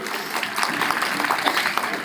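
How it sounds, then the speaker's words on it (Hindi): A hall audience at a talent search exam event applauds steadily. The claps form a dense, continuous wash that stays even in loudness for the whole stretch. "बजाइए एक बार जोरदार ताली आप सभी लोग।"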